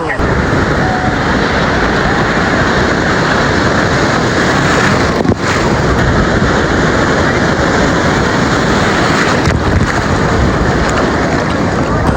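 Sea waves break and wash onto the beach at Digha, a constant loud roar of surf mixed with heavy wind buffeting the microphone and people talking nearby.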